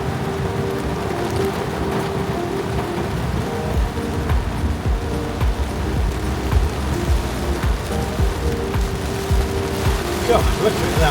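Rain and water hiss and splash steadily as a car drives through a flooded road, a constant loud wash with engine rumble beneath.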